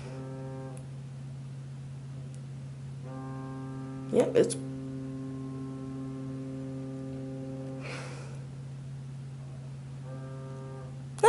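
A boat horn sounds late at night as a steady low droning tone, with its harmonics coming and going and heard from indoors. A few brief knocks and rustles occur, and a person speaks briefly.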